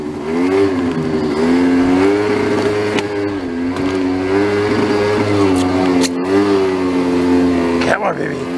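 A broken scooter engine revving hard at high RPM, its loud buzzing drone rising and falling and breaking up at the top, with someone talking over it.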